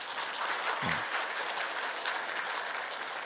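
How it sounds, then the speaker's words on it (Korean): A church congregation at a Sunday worship service applauds in blessing for a departing pastor; the clapping is soft and distant, a steady patter throughout with one low thump near the start. "우리 인사할 때 박수로 한번 축복해 주시기 바랍니다"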